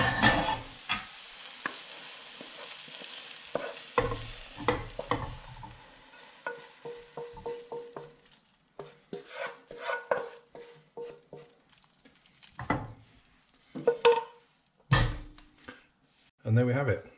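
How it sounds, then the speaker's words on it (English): Spinach and potato saag aloo is scraped from a pan into an oven-proof dish, with irregular spoon scrapes, soft thumps and metallic clinks in short bursts separated by quiet gaps. "So I'll just transfer that over."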